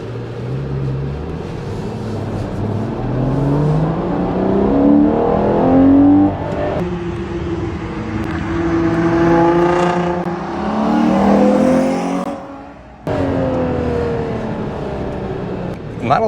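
A 715 HP Ferrari Purosangue launches and accelerates hard, its engine note climbing through rising revs in long sweeps, briefly dropping off at a shift before pulling again, loud and close from inside the cabin.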